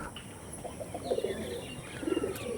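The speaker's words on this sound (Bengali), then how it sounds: "ডিপ চোখের পায়রা মাদিটা" A female pigeon coos softly in a couple of short, bubbling bursts against quiet background noise.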